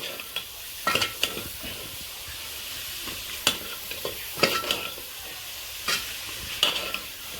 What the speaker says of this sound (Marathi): तर बघा आता आपला मसाला फ्राय व्हायला लागलेला आहे